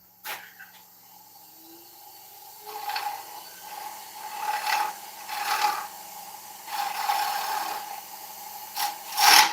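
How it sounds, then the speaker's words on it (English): Sandpaper rasps against ash wood spinning on a lathe, in several rising and fading passes over a steady motor whine. "I'm gonna start sanding."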